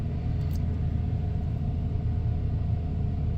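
A 1994 Ford F150 pickup with a 302 V8 and automatic transmission idles after a cold start, giving a steady, close, low engine rumble that continues unbroken.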